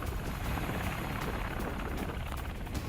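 An Indian Army military helicopter in an emergency landing drill produces steady, loud rotor and engine noise throughout, with a dense continuous roar and no voices.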